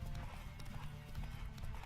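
Horse hooves galloping in the video game Witcher 3, a steady, continuous clip-clop with some low rumble, loud and close throughout, with no talking.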